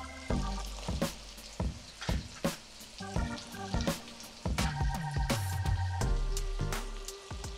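Mushrooms and onions fry in a hot pan and are turned quickly to coat them, giving a steady close sizzle with repeated sharp clatters and scrapes from stirring, and no talking.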